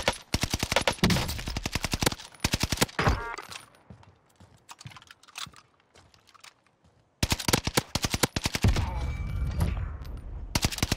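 Rapid bursts of gunfire from a shooter video game, sharp repeated shots in dense volleys, pausing briefly before another loud automatic stream resumes.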